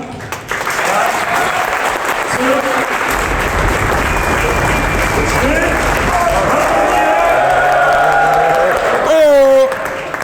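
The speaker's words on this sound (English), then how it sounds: "let's have a warm of applause for Ian" Loud, sustained applause from a conference audience in Amsterdam welcoming a crypto speaker, many hands clapping steadily with some crowd murmur, and a host speaking over it near the end.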